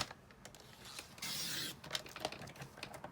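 A paper trimmer blade slides through card in one short, raspy swipe lasting about half a second, with small clicks and handling noises around it.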